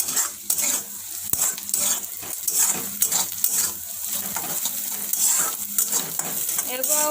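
Onion and garlic sizzle in a hot pan for a mushroom curry, a steady bright frying hiss broken by clinks and scrapes of a spoon stirring against the metal.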